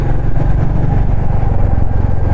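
Royal Enfield Classic 350 motorcycle running after two weeks unused, a steady loud low engine rumble heard close, unbroken throughout.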